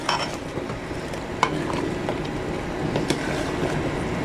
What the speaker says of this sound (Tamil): நாட்டுக்கோழி குழம்பு அப்படியே கொதிக்குது பாருங்கள்